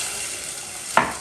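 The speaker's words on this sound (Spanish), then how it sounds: "Subimos el fuego y añadimos un vasito de vino blanco." A small glass of white wine hits garlic sizzling in a hot frying pan over raised heat. A steady frying hiss jumps into a sudden loud splash of sizzle near the end.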